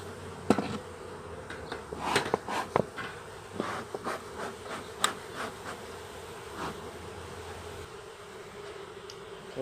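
Honeybees from a mini nuc hive buzz steadily while being knocked into a new hive box, with sharp knocks and thumps standing out over the continuous insect drone.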